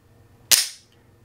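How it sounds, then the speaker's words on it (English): A Beretta magazine snapping into a Glock 48 pistol, one sharp, close metallic click alone in a quiet room. "Magazine in the gun."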